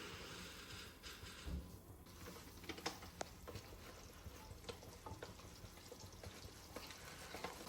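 Butter melting in a pan for a pistachio chocolate filling, giving a soft steady sizzle and fry crackle, with scattered small clicks and taps of utensils, fairly quiet and with no talking.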